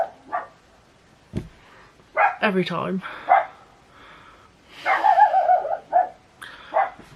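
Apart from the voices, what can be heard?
dog barking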